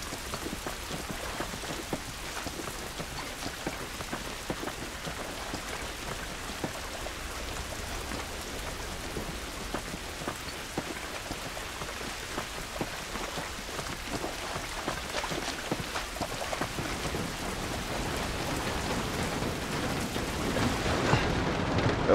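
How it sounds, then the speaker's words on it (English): Rain falls steadily in the video game The Last of Us, a dense, even hiss of drops pattering on surfaces that carries on unbroken for over twenty seconds and swells a little louder near the end, with no talk. "This rain ain't gonna do us any good."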